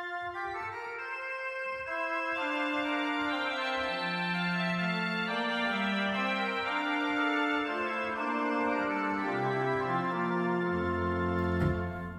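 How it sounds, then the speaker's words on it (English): Baroque pipe organ from the Bückeburg sampleset, playing the cornet stop with tremulant: a bright, reedy chorus of sustained chords and moving lines, steadily loud and pulsing with vibrato, alone with no voices. "We can also try the cornet with the tremulant"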